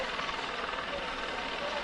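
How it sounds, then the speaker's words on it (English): A helicopter hovers over a high school football stadium during an Ada versus Durant game, giving a steady, broad rotor and engine roar that stays constant throughout. "You can hear the noise in the background as the helicopter now begins to hover over Coy Ishto"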